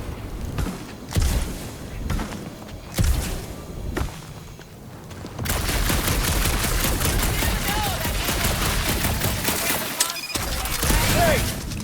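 Gunfire in Marvel's Guardians of the Galaxy: a few loud sharp shots in the opening seconds, then a sustained, dense fusillade of rapid shooting with thuds and whooshes, mixed with voices.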